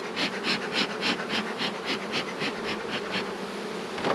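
Honey bees buzz thickly around an open hive being inspected in late March, a dense close hum that pulses and swells steadily throughout.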